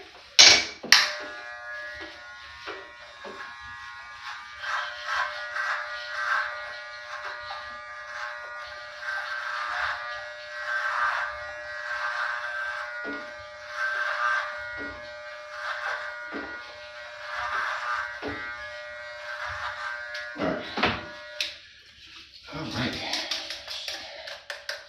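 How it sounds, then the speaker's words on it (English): Andis T-Outliner trimmers buzz steadily for most of the stretch while shaving a head bald, a close, continuous electric hum with small rises as the blade moves, then cutting off near the end. "it's a simple way to cut your head bald using the Andis T outliners"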